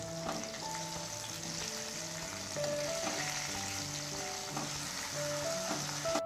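Whole capsicums sizzle in a hot pan while being turned one by one for a capsicum curry, a steady close frying hiss with light scrapes and stirring clatter.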